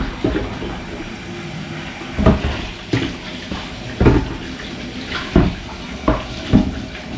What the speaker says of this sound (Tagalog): Brasan ko lang itong mga kaldero ko bago tayo nalayas dito